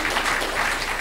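Audience applause at a conference panel session, a steady wash of many hands clapping, loud and close, filling the whole moment without talk.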